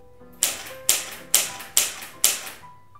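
A manual typewriter struck five times in a steady rhythm, each keystroke a loud, sharp clack that rings briefly before fading, with nothing else heard.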